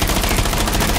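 A burst of rapid automatic gunfire in the tactical shooter game Rainbow Six Siege, loud, close and continuous over about a second.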